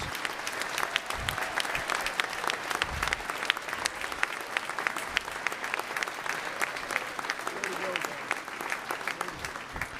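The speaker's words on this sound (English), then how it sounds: "give yourselves and each other a round of applause for the learning that goes on in your lives" A graduation audience gives a steady round of applause, many hands clapping continuously at moderate distance with a dense, even texture throughout, and faint voices underneath.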